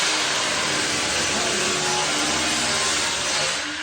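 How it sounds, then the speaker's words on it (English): Metal is being ground out of the inside of a former fire simulator trailer, making a loud, continuous, rough whine that stays steady and close throughout. "grinding"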